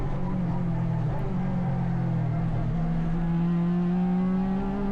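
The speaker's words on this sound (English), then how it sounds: "They rattle over the curbs here in the final sequence down the main straight here at Sydney Motorsport Park" Improved Production race cars run at Sydney Motorsport Park under lights, rattling over the curbs onto the main straight, with a loud, continuous engine drone whose pitch climbs steadily.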